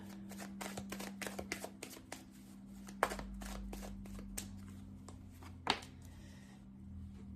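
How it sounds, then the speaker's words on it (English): Stiff, thick tarot cards riffle and slap together in a steady, close shuffle, repeated bursts of crisp flicking with a few sharper snaps. "these cards are really thick. Sometimes they're hard to shuffle"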